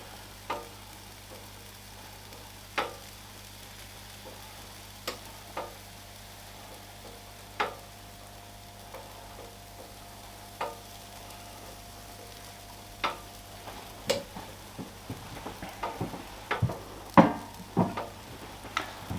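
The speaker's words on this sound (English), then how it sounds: "You can hear these sizzling away." Steady soft sizzle of American pancake batter frying on the griddle plate of a Ninja air fryer grill, with scattered crackles and pops growing busier toward the end; no voices.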